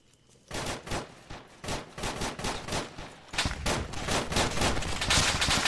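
Dense bursts of automatic gunfire in ArmA 3, heard in Zargabad: rapid overlapping shots that start after a brief quiet and keep building into a loud, sustained fusillade.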